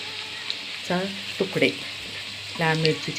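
Green chilies and red chili pieces fry in hot oil with a steady, moderate sizzle, while a voice speaks intermittently over the top of the frying.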